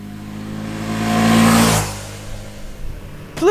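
Ducati Panigale V2S sport motorcycle heard from the cockpit, its engine revving up through a rising rasp to a loud peak, then dropping back to a burbling idle with a faint click at the end.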